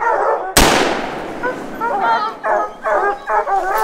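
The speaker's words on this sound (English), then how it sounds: "Alright, now when I tell you to, we're going to shoot." A single loud, close gunshot cracks out during a bear hunt with hounds, its sharp report ringing off, followed by excited hounds baying and yipping in bursts nearby.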